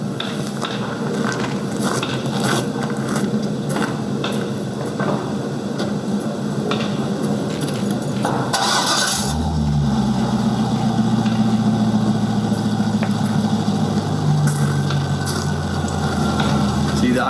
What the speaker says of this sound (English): I'm going to rev it up so you can hear the Route 66 B&B exhaust system.